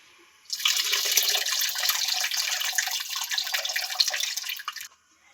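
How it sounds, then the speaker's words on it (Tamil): Water pours steadily into a fish curry pot for several seconds, a continuous splashing stream that starts abruptly and stops just as suddenly, close by with no talking. "இந்த குழம்புக்கு தேவையான அளவு தண்ணி ஊற்றிட்டு"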